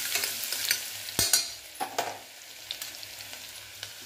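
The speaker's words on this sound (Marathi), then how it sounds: "जिरे मोहरी छान फुलायला लागले की आपल्याला कुटलेला लसण टाकायचंय" Crushed garlic sizzles and fries in hot oil with crackling cumin and mustard seeds for a rasam tempering. The steady hiss sits up close, broken by several scraping stirs of a spoon in the pan.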